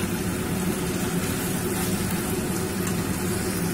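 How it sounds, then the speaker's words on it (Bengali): Fried potatoes added to chicken curry cooking in oil, a dense, even sizzle and bubbling that holds steady and close throughout. "এবার আমি এর মধ্যে ছেড়ে দেব ভেজে রাখা আলুগুলো।"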